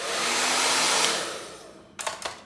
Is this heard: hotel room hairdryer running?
yes